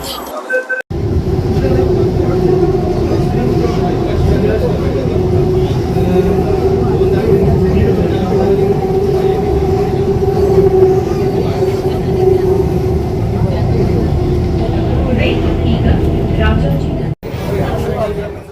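A standing ride inside a moving metro train in Bangalore, with a loud, steady rumble and hum of the carriage running continuously from start to finish.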